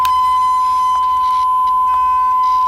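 A Simon Micro handheld electronic game holds one loud, sustained electronic tone when a button is pressed, with faint clicks under it.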